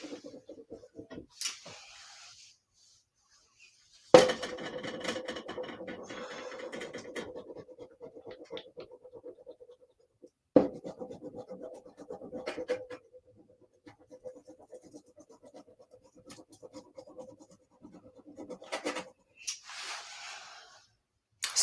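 Tempera sticks colouring on paper: quiet, close scratchy strokes in bursts separated by near-silent gaps, with a few sharper taps along the way.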